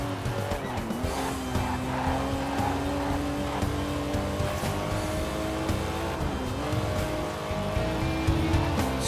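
TVR Cerbera at speed in Forza Horizon 4, its engine droning loud and steady with pitch rising and dipping through gear changes, tyre squeal mixed in, all close and continuous.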